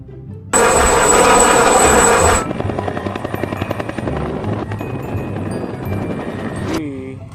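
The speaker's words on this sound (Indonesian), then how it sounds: "Wah, ada helikopter lagi teman-teman." A helicopter drones loudly with a bright whine at first, then settles into a steady rhythmic rotor chop that continues to the end.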